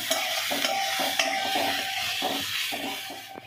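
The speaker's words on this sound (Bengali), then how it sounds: "এই যে চিচিঙে আলু ভাজা হচ্ছে" Snake gourd and potatoes fry in a pan, a close, steady sizzle broken by repeated scraping stirs of a spatula against the metal at an uneven rhythm, with no talking.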